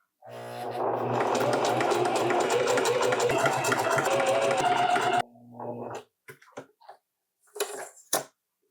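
A sewing machine stitches a t-shirt, whirring loudly and steadily for about five seconds before stopping, followed by a few brief clicks and short mechanical rattles.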